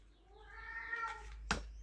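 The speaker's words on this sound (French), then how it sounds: "Oh, miaou, miaou, le chat, il est toujours là." A house cat gives a drawn-out, fairly faint meow that rises and falls, followed by a short sharp noise, in an otherwise quiet room.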